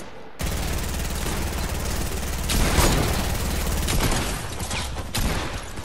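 Dense, continuous gunfire from sniping in an online shooter game, loud and sustained with overlapping shots and a brief louder burst midway, no talk over it.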